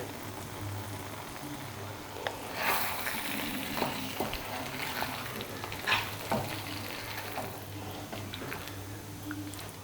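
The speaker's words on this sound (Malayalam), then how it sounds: "ഇതിൽ നിന്നും എണ്ണ തെളിഞ്ഞു വരുന്നത് വരെ നമുക്കൊന്ന് ഇളക്കി കൊടുക്കാം." Chicken mughlai with added yogurt fries in a pan and is stirred, giving a steady low sizzle broken by repeated scraping and clinking strokes, fairly quiet and with no voices.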